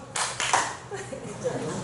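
A church congregation at a Sunday morning service claps a burst of hands together, a short loud flurry that fades into scattered claps and murmuring voices.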